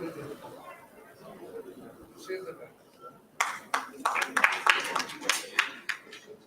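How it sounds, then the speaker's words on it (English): Applause from an audience at an accountants' convention breaks out midway, a burst of many hands clapping with scattered sharp claps, following quieter room murmur and talk. "Clap for them."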